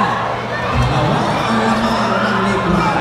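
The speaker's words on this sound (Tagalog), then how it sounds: "At mukhang mas malakas ang cheer ng likuan bahay, partner." A crowd at a local basketball league game cheers loudly during free throws, a dense wash of shouting and whooping voices with children's cries mixed in.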